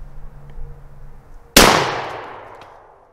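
A single loud shotgun blast from a Panzer Arms AR-12 fired outdoors at a lidless fix-a-flat can, striking sharply after quiet background and trailing off in a long echoing decay.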